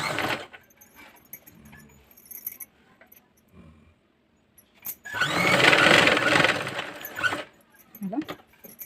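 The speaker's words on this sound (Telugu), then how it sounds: "నెక్ రౌండ్ చుట్టూ ఒక స్టిచ్చింగ్ చేసుకోండి" A sewing machine stitches around a dress neckline in one steady whirring run of about two and a half seconds, after a stretch of quiet handling clicks and rustles.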